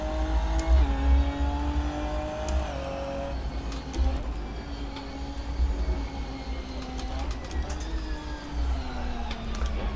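A 2017 Ginetta Supercup race car in Assetto Corsa drones steadily at moderate volume, its engine note rising and dipping with throttle and gear changes, while tire and road rumble runs underneath; no talking.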